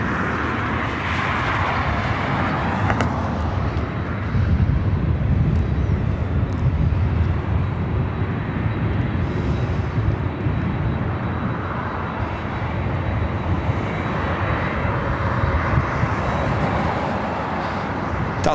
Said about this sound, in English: Delta Airlines flight 428 heading to La Hui. It's an A321neo heading to 24 right.